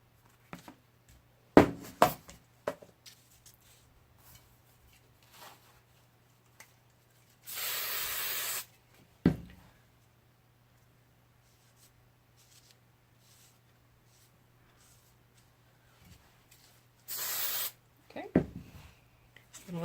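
Hairspray sprayed onto a burlesque costume to add glitter sparkle: two separate bursts of sharp aerosol hiss, each about a second long, with quiet handling clicks and rustles in between.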